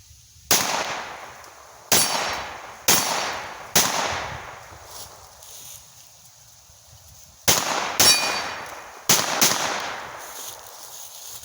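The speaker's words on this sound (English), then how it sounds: "I'll back up and shoot this thing for you guys" Shots from a Luger C96 broomhandle-style .22lr pistol fired outdoors, about eight sharp cracks with ringing decay, four in an even run, a pause, then four more in quicker succession.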